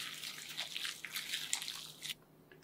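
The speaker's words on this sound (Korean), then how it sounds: "어묵을 썰어놓은 어묵을 채발에 넣고 뜨거운 물을 부어주세요." Hot water poured over sliced fish cakes sitting in a strainer, a soft, steady close-up splashing and trickling for about two seconds before it stops.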